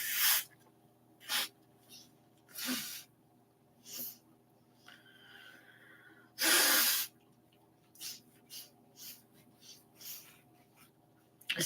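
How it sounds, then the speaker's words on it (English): A person blows their nose, with several short bursts of breathy snorting spread through a quiet room and one long, loud honking blast near the middle. "Hold on, let me blow my nose."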